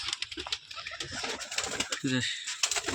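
A flock of over seventy pigeons coos during feeding, with soft throaty coos rising among scattered pecking and rustling noises and some faint background voices.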